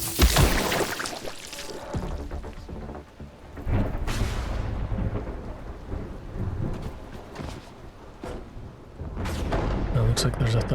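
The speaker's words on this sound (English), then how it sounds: "Well, looks like there's a thunderstorm." Thunder booms and rolls through a rainy storm in The Last Caretaker video game, with several heavy rumbling cracks rising and fading over steady rain.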